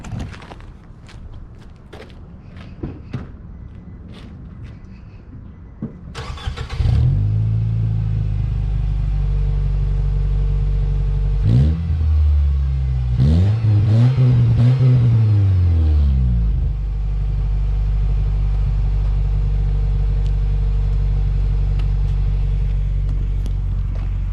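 Engine of a Nissan Sentra fitted with a new $60 Amazon muffler starts up, idles with a steady close rumble, then is revved in two rising-and-falling pulls before settling back to a loud, even idle.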